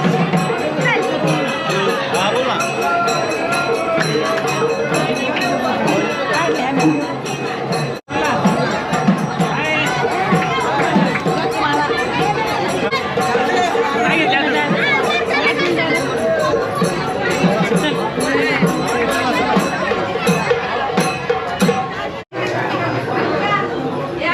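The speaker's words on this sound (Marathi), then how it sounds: "गर्दी भरपूर आहे, गर्दी." A dense, busy crowd at a village fair (jatra) in Maharashtra: constant overlapping chatter and voices with occasional children's shouts, steady and close all around, broken by two brief dropouts.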